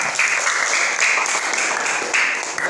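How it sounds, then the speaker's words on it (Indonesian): A room full of students claps for a presenter in a classroom, a dense, continuous burst of applause that stays loud throughout. "Tepuk tangan untuk Bapak."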